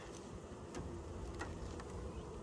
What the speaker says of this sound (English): Oh yeah, there's plenty of bees.